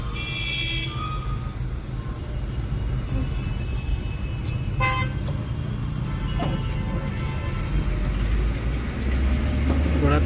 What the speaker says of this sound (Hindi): हॉर्न देते जाइए, नहीं तो घुसेगा।